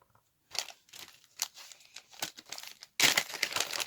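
Paper crinkles and rustles in irregular bursts as resin molds are unwrapped, close up, with a louder crumpling burst near the end and no talking.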